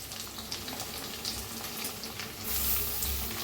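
Grated raw mango roasting in a hot pan gives a steady, close sizzle and hiss with light stirring scrapes, and it swells louder toward the end. No voices are heard.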